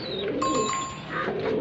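Punjabi and Malwai pigeons give a close, soft coo lasting about a second, with a faint higher chirp mixed in and low background noise.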